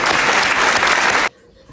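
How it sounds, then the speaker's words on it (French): A burst of crowd applause, full and loud, lasts just over a second and then cuts off abruptly into near silence. "Applaudissons Jeanne"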